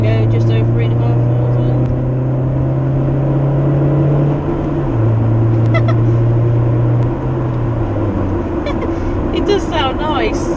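A Toyota Avensis SR with a custom exhaust idles, then its engine is revved in a couple of smooth rising and falling pulls, close and loud, with someone talking over it.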